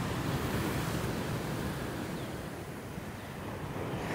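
Surf rolling in steadily at a beach near Pelabuhan Ratu, a continuous broad wash of breaking waves with wind noise buffeting the microphone throughout.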